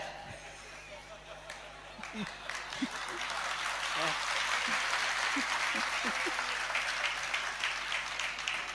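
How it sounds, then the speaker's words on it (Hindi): An audience claps during a Jain religious discourse, a soft, scattered patter of hands that builds into steady applause, with faint chuckles and murmuring in the hall. "अब ये तालियां काय के लिए बजा रहे?"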